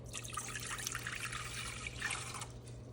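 Water pours steadily into a pot for hummingbird food with a soft, continuous splashing trickle, quiet and close, with a low hum beneath.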